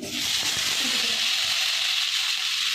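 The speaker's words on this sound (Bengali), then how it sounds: "এবার এখানে কড়াই তেলের উপরে এঁচোড়টাও দিয়ে দিলাম" Young jackfruit frying in hot oil in a wok, a steady loud broadband sizzle that starts almost immediately and continues unbroken throughout.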